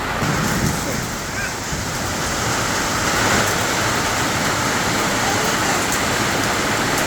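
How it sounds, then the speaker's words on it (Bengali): Heavy rain pours outdoors on a rainy day, a loud, dense, unbroken roar of falling water that holds steady throughout with a slight swell partway through. "কিভাবে বৃষ্টি হইতেছে"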